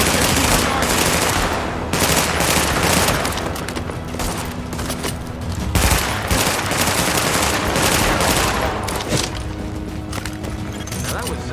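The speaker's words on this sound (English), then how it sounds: "I am stuck at the minute to just my submachine gun." Submachine gun fire in The Division video game: loud, sustained automatic bursts with booming impacts filling the whole stretch, dense and close, under game action.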